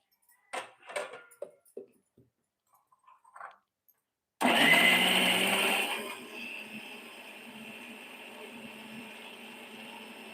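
A mixer grinder blends masala in its jar for a Malvani clam curry. A few soft knocks and handling sounds come first, then the motor bursts into a loud whir that settles into a steady, lower hum.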